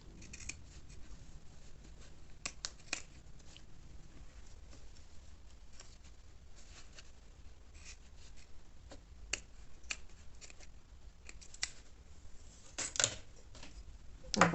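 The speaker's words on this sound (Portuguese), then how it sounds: "vou vir com a tesoura e já vou cortar essas sobrinhas de zíper" Scissors snipping off the excess ends of a zipper while making a small fabric wallet: several sharp, crisp cuts scattered through the clip, close and distinct over a quiet background, with no talk.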